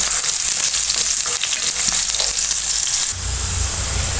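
Garlic fries in a pan until it turns brown, a loud, close, continuous sizzle with light stirring. The tone shifts slightly near the end, and no one speaks.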